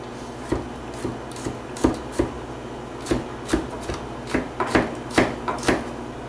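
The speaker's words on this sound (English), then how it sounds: "So I'm just going to chop up my garlic." Garlic being chopped with a knife on a board, a steady run of close, loud, slightly irregular thuds and scrapes with no talking.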